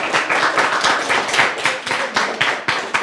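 A school audience at a French-language event claps in a brief, lively burst of close, uneven handclaps, with no speech over it.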